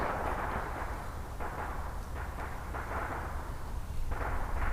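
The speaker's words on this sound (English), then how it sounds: "Really, it's fireworks." Fireworks going off outdoors, a dense, continuous series of heavy booms and crackling bursts with no gaps between them, loud and fairly close.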